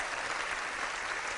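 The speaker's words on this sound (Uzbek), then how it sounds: "Olqishlab qo'yamiz." Steady, dense applause from a studio audience at a Navo entertainment show, a continuous wash of many hands clapping with no gaps and no voices over it.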